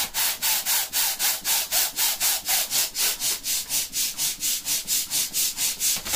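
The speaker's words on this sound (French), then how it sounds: "Je vais venir le gonfler avec ma pompe manuelle parce que c'est un ballon en alu." A manual hand pump inflates an aluminium foil party balloon with rapid, regular whooshing strokes, about three per second, loud and close, with no talking.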